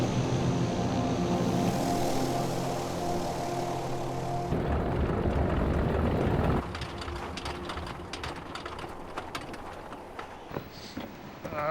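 A propeller airplane lands in extreme cold with its landing gear down, its loud engine drone steady and then cutting off abruptly. Rattling, thumping rollout noises follow once the engine sound drops.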